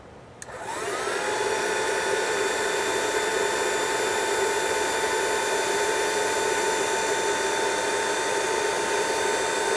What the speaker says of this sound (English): this is just one of those food sealer machines